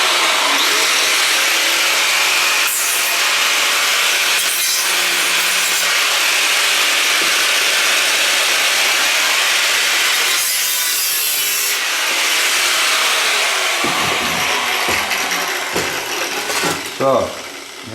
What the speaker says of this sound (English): Please don't use the grinder like this.